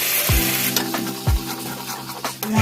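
Paste of ground cashew, poppy seed, melon seed, sesame and green chili being fried and stirred in a pan, a steady sizzle with repeated scraping strokes of the spoon and clinks against the pan.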